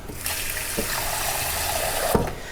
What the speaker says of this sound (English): I'll just add a cup of water.